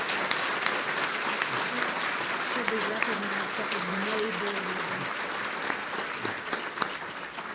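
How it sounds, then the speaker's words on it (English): Applause for the North Carolina Beginning Teacher of the Year at an excellence celebration: sustained clapping from a crowd, steady and moderately loud, with scattered sharp claps and murmured voices and cheers beneath. "So can we give her a round of applause for that great accomplishment?"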